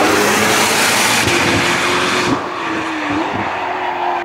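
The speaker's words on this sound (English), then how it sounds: "Big boost sound, so either ZR1 or the Zora." A Corvette ZR1 prototype's loud engine roars and revs with a rising whine and a sharp drop partway through, boosted acceleration heard close by at the Nürburgring.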